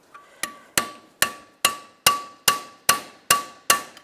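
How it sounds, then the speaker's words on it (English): Nine sharp metallic hammer strikes on a socket driving a door hinge pin with roller onto a 2007-2013 Chevrolet Silverado 1500, at a steady, even pace, each leaving a brief ringing tone, close and loud with no voices. "And hammer it on."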